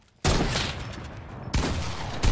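Pistol gunfire in the video game Fortnite, a few sharp bursts of shots with a sudden loud onset, then another volley partway through and a final crack near the end.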